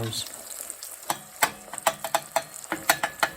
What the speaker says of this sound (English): Get these lightly scrambled, just to get all that goodness in there with it.